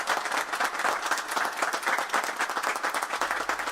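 An audience welcomes a singer with vigorous, rhythmic clapping that stays loud and close, with no talk over it.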